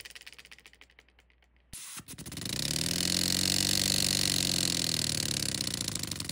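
A small CO2-powered engine with a flywheel added starts with a few quiet clicks, then spins up into a loud, steady whirring run that holds to the end, with no talking.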